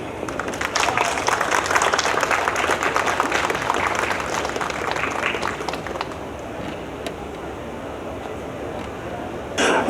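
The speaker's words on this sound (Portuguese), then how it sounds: "recebo com muita salva de palmas Sua Excelência," An audience at a climate-conference panel on security forces and sustainable development applauds Colonel Neil, with dense steady clapping for about six seconds that thins and fades toward the end.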